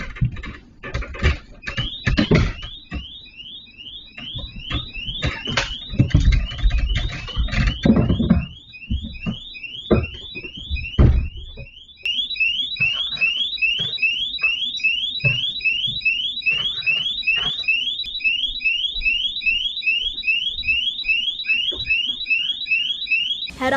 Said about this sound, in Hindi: अचानक जोर जोर से अलार्म बजने लगा